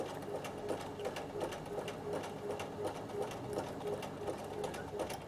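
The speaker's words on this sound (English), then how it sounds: "I'm just zigzagging over my straight rows of straight stitching." A Bernina sewing machine zigzag stitching across straight rows of stitching in heirloom sewing, running slowly with a steady rapid needle clatter, quiet and close, with someone talking over it.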